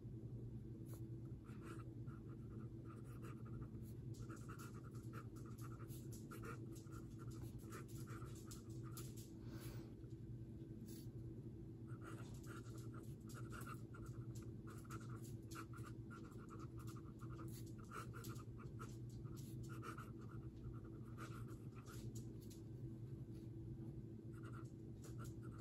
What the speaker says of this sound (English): It's a very smooth nib, and let's write down the ink.